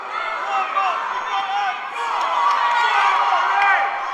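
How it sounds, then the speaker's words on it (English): A fight crowd roars and cheers wildly as two fighters, one of them Molly McCann, trade blows, the excited shouts and whoops swelling loudly and continuously in the arena. "now they're trading and the crowd are going wild"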